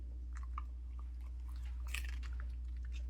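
A pet crunches celery in a home kitchen while slow-cooker ham and bean soup is being made, giving a string of close, crisp bites and chewing crackles over a steady low hum, with a dense burst of crunching near the middle.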